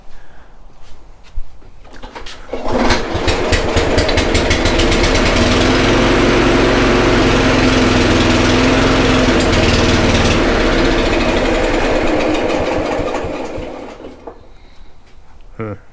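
Snapper lawn mower engine after carburetor work, starting up and running steadily for about ten seconds with a loud droning roar and rattling, then cutting out, with faint talk before and after.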